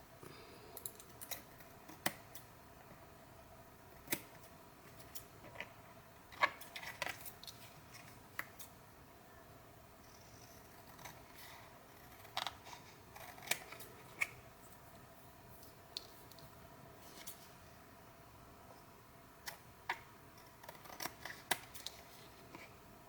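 Scissors snip through paper scraps and clothing tags in a quiet room, giving a scattering of short, crisp cuts at irregular intervals with light handling rustle between them.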